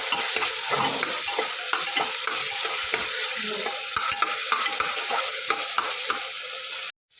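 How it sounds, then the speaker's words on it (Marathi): Onions sautéing in a pan for mutton biryani, a steady close sizzle with frequent scraping stirs of a spoon, cutting off abruptly at the end, no talk. "छानपैकी असं ट्रान्सपरंट होईपर्यंत परतायचा आहे कांदा हा"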